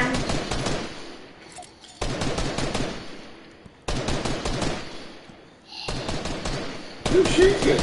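Bursts of rapid automatic gunfire from a Fortnite Chapter 2 match come in repeated dense volleys separated by short gaps, loud and close, with a player talking over the shooting.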